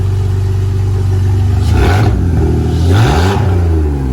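A BMW E46 325xi with its M54 engine, catless headers and custom exhaust revs hard and close, climbing twice in rising throaty sweeps from a loud idle before falling back.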